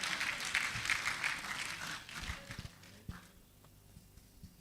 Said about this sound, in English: I think he deserves a more resounding applause.